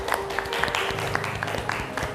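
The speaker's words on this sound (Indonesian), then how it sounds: "Oke, tepuk tangan untuk Anggi." Students in a classroom give a classmate a short round of applause, light scattered clapping with faint crowd murmur, fairly quiet and close.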